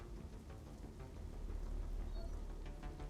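Steady rain in the video game TRON: Catalyst, a dense continuous patter of drops with a low rumbling undertone, fairly loud and alone throughout.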